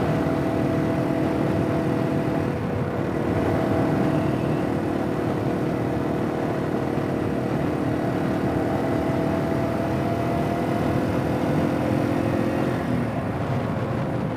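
A 2021 Yamaha TW200 dual sport motorcycle is ridden with an aluminum skid plate resonating: a steady, close engine drone with sustained harmonic hum, constant in loudness throughout and no talking.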